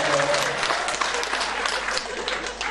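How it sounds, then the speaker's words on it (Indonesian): Audience clapping at an Islamic religious lecture, broad continuous applause from a seated crowd, steady and moderately loud with faint voices mixed in. "tepuk tangan itu mewakili hati nurani mereka"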